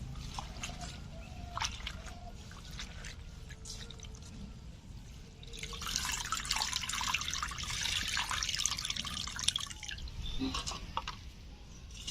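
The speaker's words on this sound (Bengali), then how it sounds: "লাউ শাকগুলো ধুয়ে নেব, একসঙ্গে লঙ্কাও ধুয়ে নেব।" Bottle gourd leaves and green chillies rinsed by hand in a bowl of water, with soft drips and sloshing that swell into a steady splashing wash midway, close and moderately quiet with no talking.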